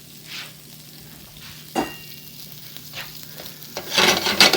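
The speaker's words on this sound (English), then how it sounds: "Crackle, crackle, sizzle, pop, crackle." Charred Brussels sprouts sizzle in brown butter in a pan, a low steady fizz broken by scattered crackles and pops that swell into a louder, busier burst at the end.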